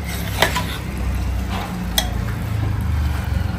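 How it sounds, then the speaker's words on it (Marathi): A spoon stirs a whisked yogurt mixture being sautéed in a pot for chicken yakhni pulao, with soft scraping under a low steady cooking hiss and a couple of sharp clinks against the metal. "आता हे आपण परतून घ्यायचं"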